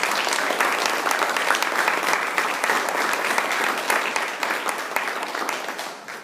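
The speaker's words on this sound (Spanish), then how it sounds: "Hasta da un aplauso a Jesucristo." Sustained applause from a church congregation honoring Jesus Christ, dense and steady for about six seconds before thinning slightly at the end.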